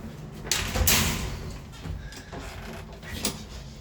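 Doors of an old working lift in Montevideo opening and shutting: metallic sliding, rattling and thudding of the outer and inner doors, close by, with a heavy clunk near the start and softer knocks afterward.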